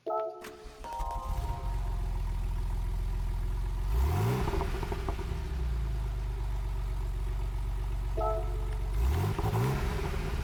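A 1987 Porsche 959 in Gran Turismo 7 cranks and fires up, settling into a steady idle with two sharp rising revs, each following a short electronic chime.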